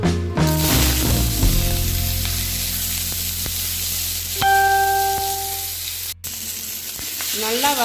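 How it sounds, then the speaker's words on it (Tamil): Thuthuvalai leaves frying in coconut oil in a pan, a loud, continuous sizzle with occasional stirring clatter and a brief ringing tone partway through, up close. "தூதுவளை வறுக்கும் போது மட்டும் கொஞ்சம் எண்ணெய் ஊற்றிக்கோங்க, தேங்காய் எண்ணெய் ஊற்றிக்கோங்க."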